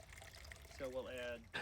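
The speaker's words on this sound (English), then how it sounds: "Next, I'll add 3 quarts of water to make a gallon of solution." Water poured into a jug to mix a compost tea solution, heard as a faint, brief fill whose pitch rises as the container fills.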